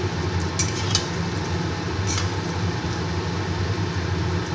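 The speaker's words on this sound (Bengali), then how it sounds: "এইভাবে আমি বড়াগুলো সব ভেজে নেব" Lentil fritters fry in hot oil with a steady, continuous sizzle close by, broken by a few brief clinks of a utensil against the pan.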